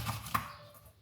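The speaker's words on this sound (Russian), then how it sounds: "режу ананас" A knife cuts into a not-very-fresh pineapple in a kitchen, with two soft, close chopping thuds early on, then quiet.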